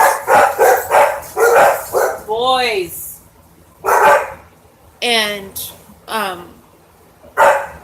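Several dogs bark nearby in loud, repeated bursts, with some yelping, whining calls mixed in, while a person speaks briefly between them.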